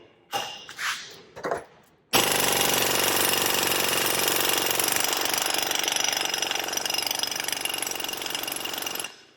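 A Snap-on MG325 air impact wrench, set at 200 in takeoff mode, gives a few short bursts and then a loud, continuous rapid hammering rattle for about seven seconds before cutting off.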